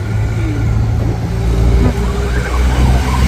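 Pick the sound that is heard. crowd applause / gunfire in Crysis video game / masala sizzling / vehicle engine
vehicle engine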